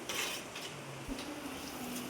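Onions stirred and sautéed in a pan for a home-cooked chicken curry, a faint low sizzle under light scraping and clinks of a spoon against the pan, with no voices.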